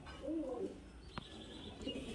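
A male pigeon coos close by in low, rolling calls at the start and again near the end, with a sharp click and faint background noise between them.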